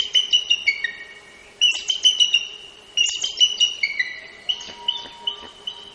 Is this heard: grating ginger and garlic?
no